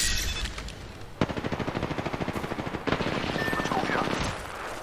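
Video game gunfire, rapid automatic bursts with a sharp shot opening the first burst, loud and continuous for several seconds, no voices.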